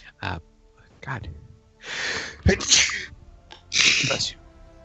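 A person sneezes a few times close up in a dramatized fantasy audio story, the sharp bursts separated by short gaps, with voices talking between them.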